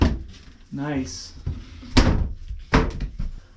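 A hidden secret door in a backyard family-built treehouse swings open with a creak and a couple of solid wooden thunks and bumps, close by, while people talk.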